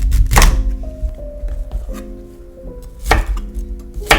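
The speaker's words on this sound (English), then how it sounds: "So I'm going to get those chopped." Broccoli heads are cut with a knife on a cutting board, giving heavy close thunks at the start and again near the end, with quieter knocks and a faint ringing hum in between.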